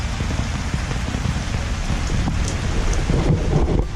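Rain falling steadily in the afternoon, a dense, continuous hiss of drops on surfaces, fairly loud and close, with scattered heavier drips and no speech.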